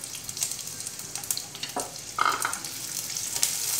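Sliced onion and green chillies sauté in a pan, giving a steady close sizzle with scraping stir strokes and a few sharper clinks of the utensil against the pan, no voices.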